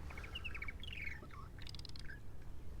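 Several purple martins chirp and squawk in quick bursts of bright, high calls over a steady low background hum, fairly close and continuous, on Eastern Long Island.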